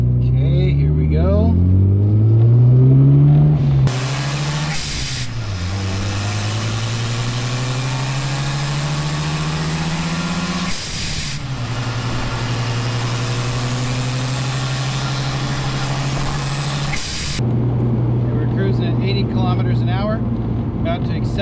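A Mazda RX7 FC3S accelerates hard for a braking test, its engine tone climbing steadily through a gear before a brief drop and another long, loud pull, then easing back near the end.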